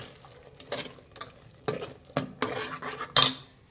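A metal spoon stirs fried avarekalu (field beans) with ground masala of coriander powder, coconut and chilli powder in a pan, giving several distinct scraping clinks at an irregular rhythm over a faint sizzle.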